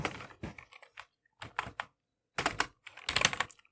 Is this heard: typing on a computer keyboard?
yes